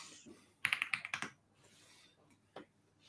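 A quick burst of about eight crisp computer keyboard keystrokes, close and fairly quiet, followed by a single later tap, with no talking.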